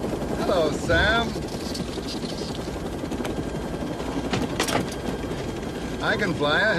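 A helicopter's rotor thuds steadily throughout at close range, its mechanical chop holding an even, continuous rhythm while a few brief voices cut in over the top.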